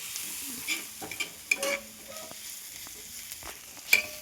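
Onions frying in a pan while being stirred, a soft steady sizzle with scattered scrapes and clinks of the spoon, close but fairly quiet, with no talk.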